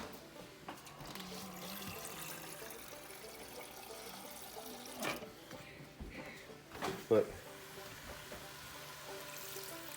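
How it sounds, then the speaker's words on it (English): A little water is poured into a pot of chili, a brief splashing pour in the middle of a quiet kitchen scene, with a person talking. "I'm gonna put a little bit of water in it."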